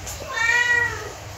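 British Shorthair kitten meowing once, a clear drawn-out meow close to the mic above a low background hum.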